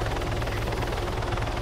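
A helicopter in a video game gives off a loud, steady rotor thrum, close and constant throughout the short stretch with no talk over it.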